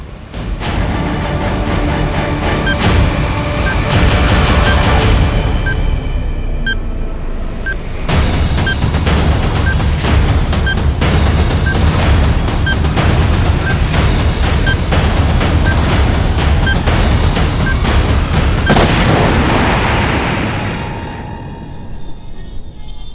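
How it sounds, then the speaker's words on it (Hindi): A long barrage of loud, sharp blasts and booms, packed close together and rumbling on for about twenty seconds before fading away. "जो तुम ना बोल पाए वो अब ये बम विस्फोट बोलेगा।"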